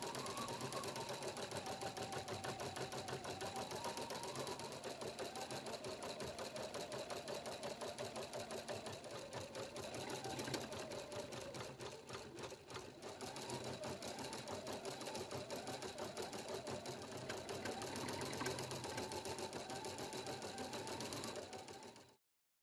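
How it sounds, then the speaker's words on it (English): A Husqvarna Viking Platinum Plus computerized sewing and embroidery machine runs steadily, embroidering a design with a fast, even needle chatter and motor hum that continues close and unbroken for over twenty seconds before stopping, with no talking. "Touch Start Stop to embroider and change colors as prompted"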